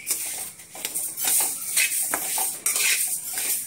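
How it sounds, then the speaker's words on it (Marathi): Roasted flax seeds poured from a pan into a metal plate to cool, giving scattered light metallic clinks and scraping rattles of dishware, fairly close and without any talk. "तर आपण थंड होण्यासाठी परातीमध्ये काढून घेऊ"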